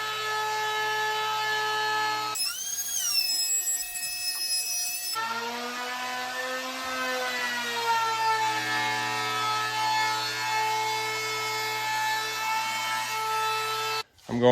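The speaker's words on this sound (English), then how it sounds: "Now we're gonna route the edges." Router with a 45-degree bit cutting the edges of walnut countertops: a loud, close, sustained high whine whose pitch dips and rises as the bit bites into the wood, running continuously before cutting off near the end.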